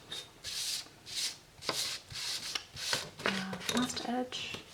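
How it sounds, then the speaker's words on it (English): An X-Acto knife slices through a cardboard album cover to shape a coaster, giving repeated rasping scrapes in steady strokes, close and fairly quiet, with a voice speaking briefly between cuts. "press the X-Acto knife hard enough so that it does cleanly cut things"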